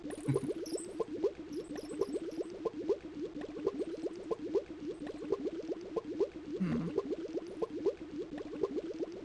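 Rapid, rhythmic bubbling of boiling hot water in King's Quest 6, a steady rolling gurgle that continues alone and close throughout.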